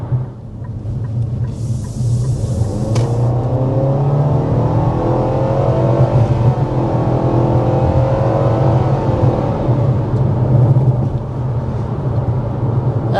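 A 2025 Nissan Kicks with a continuously variable transmission accelerates hard, its engine holding a steady, loud drone close by with no talking.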